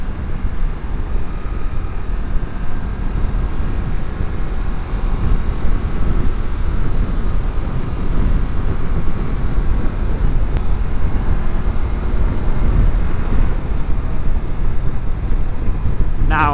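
A Triumph Tiger 1200 Rally Explorer motorcycle ridden on the road, a steady loud engine and wind roar holding throughout with no breaks.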